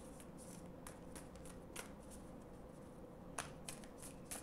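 A deck of star code oracle cards is riffled and shuffled at close range, a soft continuous papery flutter punctuated by several sharp card slaps and snaps, quiet with no voice.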